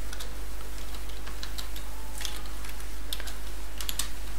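Rapid, light clicking of keys on a computer keyboard while entering code for a Flutter app tutorial, irregular bursts of close taps over a steady low hum, no talking.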